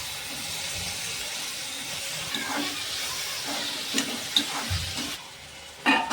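Tomatoes hit a pan of softened onion and ginger-garlic paste for pav bhaji, giving a steady close frying hiss with scattered scraping stir clicks, alone without voices.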